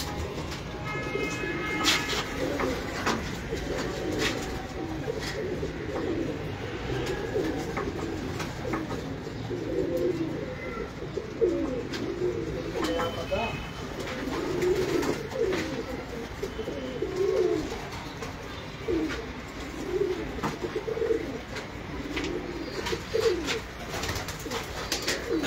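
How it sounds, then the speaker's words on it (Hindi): Home loft pigeons coo repeatedly in soft, rolling phrases close by. The calls continue throughout, over a faint background hiss. "बहुत ही खूबसूरत कबूतर है ये, छोटा सा इसका साइज है।"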